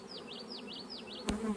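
Honeybees on a hive frame full of fresh larvae hum in a steady close drone, with a sharp brief knock near the end.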